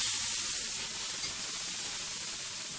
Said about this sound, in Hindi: ग्रीन पीस डाल दिया, इसीलिए अब आप भून रहे हैं।